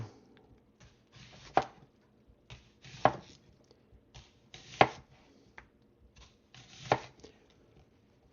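A knife slicing an onion on a cutting board, sharp chops about every one to two seconds with faint rustling in between, quiet and close with no talk.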